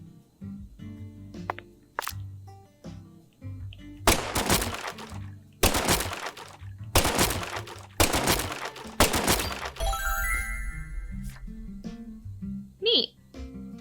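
A tranquilizer gun fires in Deadly Premonition 2: a few sharp single shots, then four heavy, booming blasts spaced about a second apart, with thuds and brief game sounds between them.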